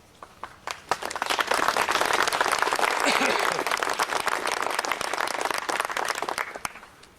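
Applause from a crowd at a Doughboy ceremony at Wentworth, a military academy, where a cadet is being recognised: steady, dense clapping that swells quickly after a few scattered claps, holds for several seconds, then thins out.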